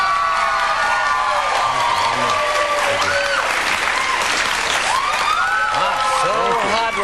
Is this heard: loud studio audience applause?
yes